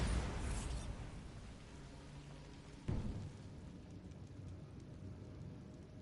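A Bombarda spell blast in the game Hogwarts Legacy, a loud opening burst that rumbles and decays, followed by a second sharper impact about three seconds later and a fading rumbling tail.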